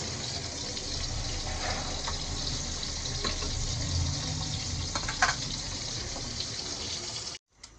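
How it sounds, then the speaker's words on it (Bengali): Fish frying in hot oil in a home kitchen, a steady loud sizzle and hiss running continuously with a few small pops, with no voices, then cutting off abruptly near the end. "এখন মাছগুলো ভেজে নিচ্ছি।"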